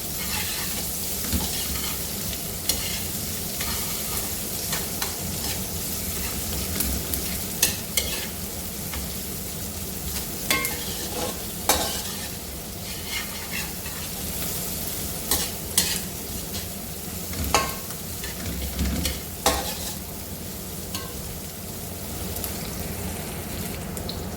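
Onions fry in hot oil, a continuous loud crackling sizzle with repeated spatula scrapes and taps against the pan throughout.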